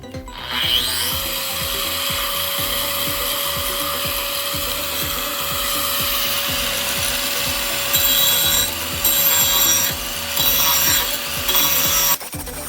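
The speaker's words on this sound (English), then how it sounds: "So now I'm going to use the diamond cup wheel and finish shaping it" A diamond cup wheel on a grinder shapes a river rock into a polished stone bowl, giving a loud, steady abrasive grinding whine with a constant motor tone and rough scraping texture throughout, with no talking.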